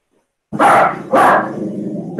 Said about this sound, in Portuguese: Vocês vão ter cachorro latindo aí.